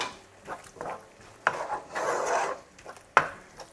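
A spoon scrapes and stirs chili powder, garam masala and ketchup in a pan for a paneer egg jalfrezi, with soft rubbing swirls and two sharp knocks against the pan, close and fairly quiet.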